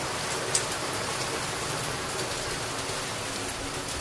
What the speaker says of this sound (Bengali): ওই যে পুরো বৃষ্টি নামছে